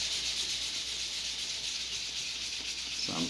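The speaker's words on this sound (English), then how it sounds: "First step, of course, is to put an initial sand on it." A sanding block rubs over a sheet of balsa wood for a model rocket build, a continuous close scratchy hiss that stays even throughout, ending with a faint low knock.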